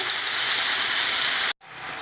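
Small chicken pieces frying in a pan for Chinese fried rice give a loud, steady, close sizzle that drops out for a moment near the end, then resumes.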